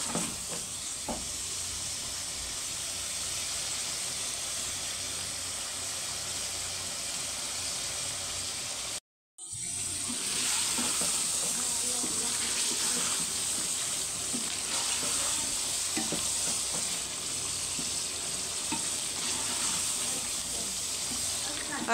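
Tomatoes and spices fry steadily in a pan with a constant, even sizzle and occasional stirring scrapes. A brief cut of silence interrupts the sizzle partway through, then it resumes at the same level.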